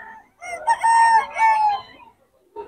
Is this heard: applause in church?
no